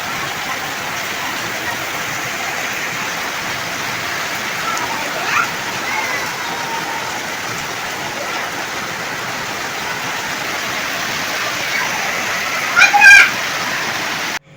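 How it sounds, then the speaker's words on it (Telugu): Heavy rain falls in a dense, unbroken hiss for the whole stretch, loud and close, with a brief clatter near the end and no voices. "ఇంకా వర్షం అయితే పెద్ద అనమాట మస్తు సేపటి దాకా పడ్డది"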